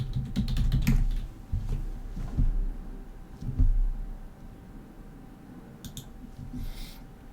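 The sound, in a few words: typing a password on a computer keyboard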